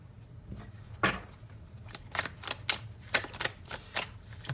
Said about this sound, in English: I'm going to go ahead and take these cards.